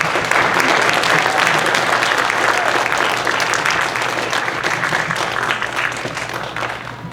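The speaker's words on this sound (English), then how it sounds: "You all give your parents a round of applause for what they've done for us" A crowd at a JROTC potluck promotion ceremony gives the parents a sustained round of loud, dense applause that fades slightly toward the end, with a low hum running beneath.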